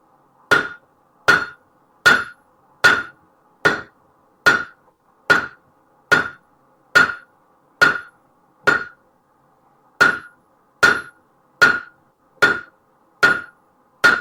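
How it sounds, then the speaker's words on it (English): A hammer strikes a stainless steel fork on the horn of an anvil in a steady series of sharp, ringing metallic blows about one per second, with a brief pause partway through before the strikes resume, no talking. "we're working on the horn of the anvil, not the heel or the middle"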